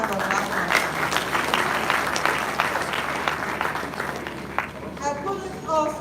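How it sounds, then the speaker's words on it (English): A crowd applauds at a university inaugural lecture, with moderately loud clapping that gradually thins out. Voices can be heard near the end. "It's another round of applause"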